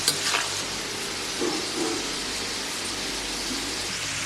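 Chilli-shaped milagai mittai candy frying in oil over a low flame. A steady, close sizzle runs throughout, with a few soft stirring scrapes.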